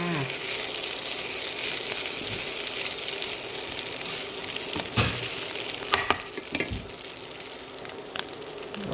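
Egg fried rice sizzles steadily in a hot pan, a continuous close frying hiss broken by scraping stir strokes, with little talk.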